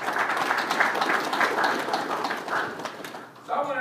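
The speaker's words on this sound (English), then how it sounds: "Give yourselves a hand clap for that." Football team clapping together in a room, a dense steady burst of many hands applauding for a few seconds before fading, with a voice starting to speak at the end.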